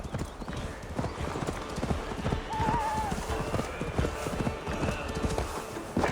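In the Assassin's Creed Valhalla video game, a horse's hooves clop in a steady fast rhythm close by, with a brief neigh partway through over the running hoofbeats.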